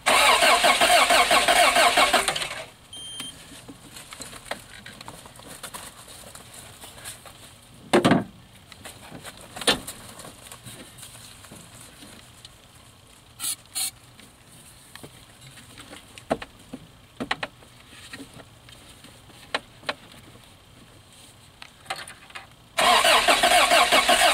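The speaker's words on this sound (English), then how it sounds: "It actually cranks over now." A 1986 Toyota van with a starting fault, its engine cranking in a loud burst before going quiet, with occasional knocks and clicks, then cranking loudly again at the end.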